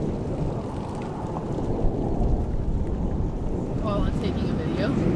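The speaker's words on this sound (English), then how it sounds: "This storm is angry." Thunderstorm during a tornado chase near Lockett, Texas: a deep, continuous rumble of thunder with wind buffeting the microphone, steady and loud throughout.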